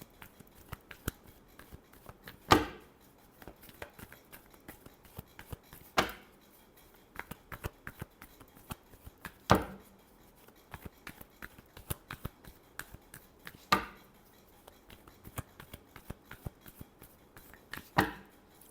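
Tarot cards are shuffled by hand in a quiet room: soft riffling rustles punctuated by several sharp slaps and snaps at irregular intervals over nearly twenty seconds, with no talk.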